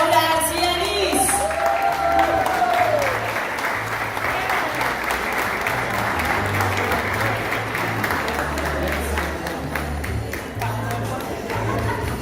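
Steady applause from a crowd welcoming a social development official at a public event, a dense continuous wash of clapping that holds at an even level throughout, with a voice briefly audible at the start.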